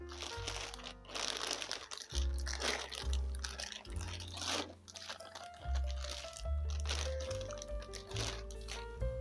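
A large plastic Ziploc bag with Telfar branding crinkles and crackles during an unboxing, close and continuous handling noise in uneven bursts, with no talking.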